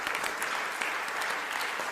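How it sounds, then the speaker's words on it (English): Audience applause at an awards summit, a dense steady clapping from a crowd that holds at an even level for a couple of seconds. "a huge round of applause"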